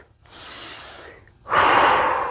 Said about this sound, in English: We're breathing cool, calm, and controlled.